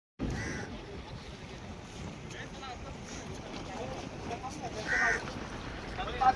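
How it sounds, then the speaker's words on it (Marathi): Sea waves at a beach in Goa make a constant rumbling surf with heavy wind buffeting the microphone, swelling louder in places, while a voice speaks briefly. "समुद्र आहे सर"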